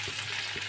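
A shrimp curry with ground spices fries in a pan, giving a close, steady sizzle with faint stirring scrapes over a brief moment.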